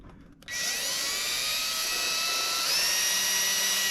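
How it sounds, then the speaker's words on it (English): A high-pitched electric drill whines steadily after a quiet start, drilling a hole in a Ground Industries TKP mountainboard, its pitch rising slightly partway through as it bites in. "I'll just drill."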